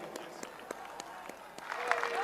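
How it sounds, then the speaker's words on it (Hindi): Scattered applause from an audience welcoming India's Prime Minister onto a stage at a public event, with separate claps at first and then building, while a voice speaks over it. "तालियों से स्वागत कीजिए।"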